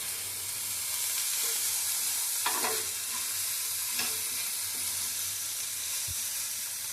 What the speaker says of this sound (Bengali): এতে একটু নুন দিয়ে দেবো, যাতে আমার পেঁয়াজটা তাড়াতাড়ি ভাজা হয়ে যায়।